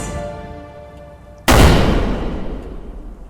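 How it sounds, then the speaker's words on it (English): A single loud gunshot in a video game cavern, preceded by a quiet ambient drone, hits sharply and then rolls on as a long reverberant echo that slowly decays through the cave. "The gunshot echoed throughout the cavern."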